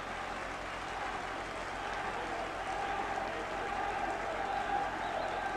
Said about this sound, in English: Large crowd, mainly Wigan supporters, getting behind the team now.